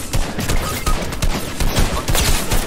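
Rapid automatic gunfire in an online shooter video game, a dense, continuous stream of fast, loud shots with no pauses and no talking.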